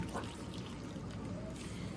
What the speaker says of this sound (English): you're going to dunk your felt in the hot water for a few seconds and wring it out